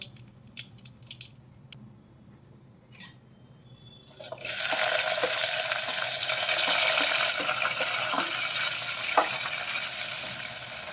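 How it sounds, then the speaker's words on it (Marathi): Cumin and mustard seeds dropped into hot oil in a pan burst into loud, steady sizzling after a quiet start, crackling continuously close by with a few sharp pops. "तेल गरम झालेलं आहे, त्यामध्ये आता मी जिरा मोहरी घातलं आणि जिरा मोहरी छान असं फुलू द्यायचं आहे"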